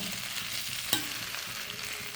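A spoon scrapes and stirs through thick ripe jackfruit mixture in a heavy pot, with a soft sizzle underneath and one sharp clink midway.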